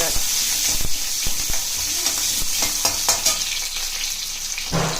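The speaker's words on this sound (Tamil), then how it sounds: "இதை நல்லா வதக்கிட்டு இப்போ இந்த சின்ன வெங்காயத்தை ஆட் பண்ணிக்கோங்க." Garlic, pepper, cumin and shallots sauté in hot oil for a Tamil-style karamani thokku, a continuous close sizzle with frequent sharp scraping stirs of the spoon against the pan.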